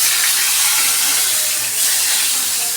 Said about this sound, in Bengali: মাছটা আমি ভেজে নিচ্ছি দেখো।